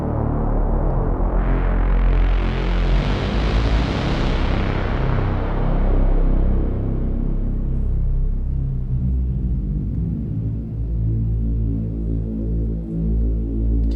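A synthesizer voice from a single oscillator with unison, filter resonance and distortion drones loudly on its own, a thick buzzing tone whose bright filter sweep opens and then gradually closes over about fourteen seconds while the low pitch holds steady.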